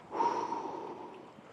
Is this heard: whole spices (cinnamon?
no